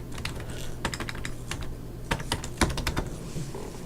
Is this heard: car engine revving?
no